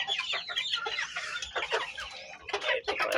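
Young pullets cluck and chatter steadily in a backyard flock, with dense overlapping calls close by and hardly a pause.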